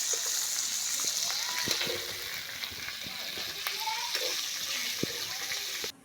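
Prawns coated with turmeric fry in oil with a continuous close sizzle, punctuated by light scraping and clicking as they are stirred, until the sound cuts off abruptly at the end.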